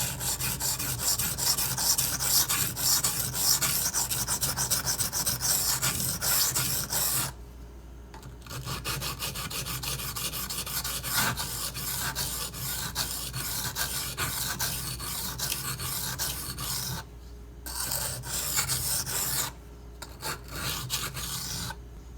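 A Benchmade 9400 knife blade drawn across a Shapton Glass sharpening stone to remove a chip, close rhythmic rasping strokes repeated steadily with brief pauses between passes.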